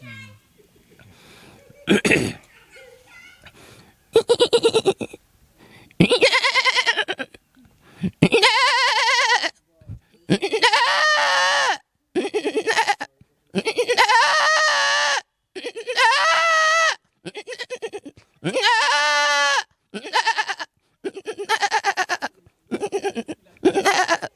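A man imitates a goat bleating, producing a string of wavering, nasal bleats in short bursts separated by pauses, close and loud, with some speech between the calls.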